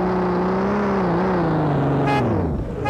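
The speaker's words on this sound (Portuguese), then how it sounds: "Acelerando forte o Camarozão" A Chevrolet Camaro accelerates hard at night. Its loud, close engine drone holds a sustained tone that shifts in pitch as it pulls, and a brief higher sound cuts in near the end.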